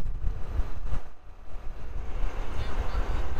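Wind gusts in a snow storm on a mountain, buffeting in uneven surges and dips with rough, blustery noise close to the microphone.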